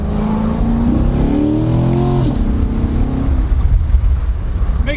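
A car engine revs up loudly, its pitch climbing through a couple of gear changes, then settling into a rough, noisy rumble.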